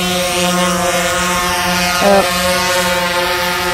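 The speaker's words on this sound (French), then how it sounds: "Alors Chris il fait voler son drone" A DJI Phantom 4 quadcopter drone flies nearby, giving a steady, loud multi-toned propeller whine with wind buffeting the microphone and a brief pitch shift partway through.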